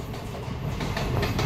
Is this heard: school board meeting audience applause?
no